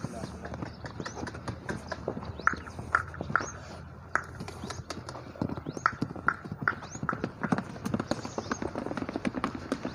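A mare walks over hard ground at a horse dealer's yard, her hooves clip-clopping in a steady, close rhythm. People talk throughout and a brief whinny-like call rises now and then.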